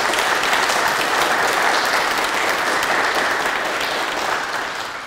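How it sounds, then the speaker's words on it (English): Steady, dense applause fills a hall at a student design competition awards show, a full crowd clapping continuously and loudly before tapering slightly at the end. "I want to give a round of applause to all the students for the wonderful work that they did"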